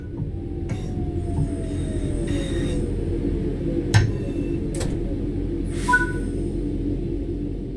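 A train braking to a stop in the Train Sim World 5 video game, with a steady low rumble, a slowly falling tone and a few sharp clanks and hisses near the end.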